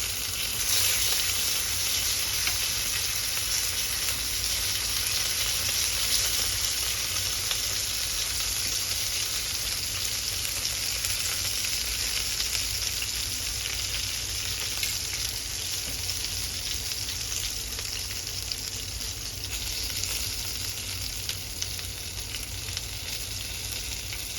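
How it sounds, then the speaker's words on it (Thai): Salted salmon on a grill sizzles in a steady, dense crackle and hiss, close and unbroken throughout, with no voices. "ย่างปลาหอมๆย่างปลาหอมๆ"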